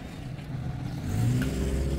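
A car approaches and passes close by on a neighborhood street in Christchurch, its engine noise swelling steadily over about two seconds.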